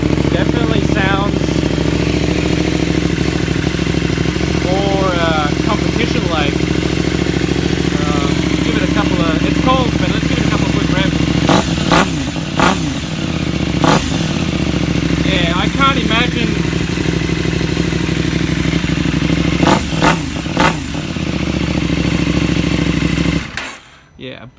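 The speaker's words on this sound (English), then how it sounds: "a big crack when you whack the throttle" A KTM 790 Adventure R fitted with a Rade Garage Sharon exhaust runs loud and close, a steady idle broken by several sharp throttle blips and revs, with people talking over it throughout.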